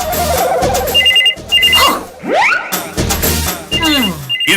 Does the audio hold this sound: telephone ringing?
yes